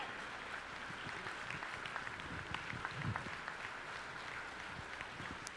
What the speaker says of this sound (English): he has exemplified service, deserves a big round of applause